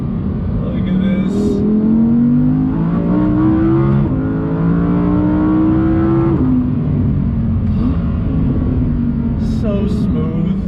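An Audi R8 engine pulls hard under throttle, its pitch climbing through gear changes, then drops back through downshifts on braking; loud and close throughout, with brief voices over it.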